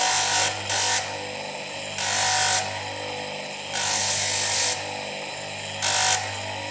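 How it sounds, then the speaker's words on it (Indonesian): A copper and brass ring being sanded by hand with 150-grit sandpaper, giving a rough, gritty rasp in repeated strokes of about a second each, separated by quieter pauses, close and fairly loud with no talking. "kita ulangi lagi dengan amplas yang lebih halus"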